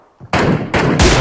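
Close, loud gunshots in a PUBG-style battle royale shooter, three sharp blasts about a third of a second apart after a brief quiet start.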